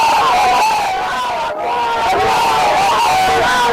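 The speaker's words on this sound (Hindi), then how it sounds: "अकबर के यहाँ पर नारे शुरू हो गए हैं।" Large, agitated crowd shouting and chanting slogans at a street disturbance in Jodhpur on Eid, a dense, loud, continuous roar of many voices with a brief lull midway.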